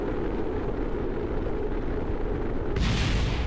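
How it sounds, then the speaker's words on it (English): Batteries blowing up on a spacecraft in Kerbal Space Program, a loud sustained rumbling roar with a sharper burst of noise near the end and no voices. "Okay, the batteries blew up."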